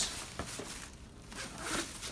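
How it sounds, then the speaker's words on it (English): A purse zipper is pulled in short rasping strokes, close and fairly quiet, with a few quick bursts across two seconds. "Zipper's broken on this one."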